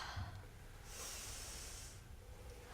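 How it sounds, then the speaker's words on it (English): Slow, deliberate breathing during a guided relaxation exercise, a soft breathy hiss swelling for about a second in the middle, close and quiet over a low rumbling background. "I'm breathing a little extra on purpose so you can hear me."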